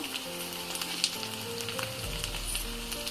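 Tomatoes dropped into hot oil for egg bhurji crackle and sizzle loudly and close, with brief stirring clinks over a steady frying hiss, no voices.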